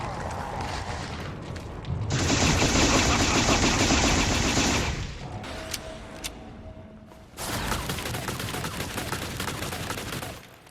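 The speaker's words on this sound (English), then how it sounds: "when Sadler fires those shots at you, it sounds like a gun" Sadler fires gunshots in the video game Resident Evil 4 Remake: loud, dense bursts of rapid gunfire in two long volleys, separated by a quieter stretch with a brief mechanical whine.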